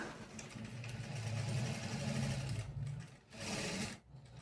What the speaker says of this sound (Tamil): பேக் ஸ்டிச் போட்டுக்கிறேன்.